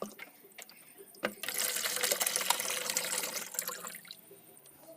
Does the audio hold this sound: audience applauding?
no